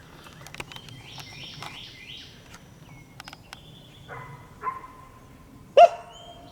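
Dog barking somewhere in a wooded thicket, a few sharp distant barks scattered through the clip, mixed with bird chirps and a louder close call near the end.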